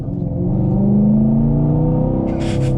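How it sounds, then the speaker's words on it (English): Chevrolet Camaro SS 1LE V8, 2018 model, revving loudly on a downshift, a steady deep engine drone rising in pitch close up, with a brief hiss near the end. "I love V8s. They make the most obnoxious noises in the world."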